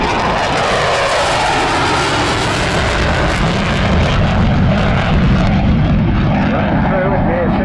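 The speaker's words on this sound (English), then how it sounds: "What's so astounding is how close you can keep this jet into the display area." Eurofighter Typhoon jet making a fast pass at near 600 mph over the display area at the 2022 Southport airshow, a loud, sustained roar filling the whole clip while a commentator talks over it.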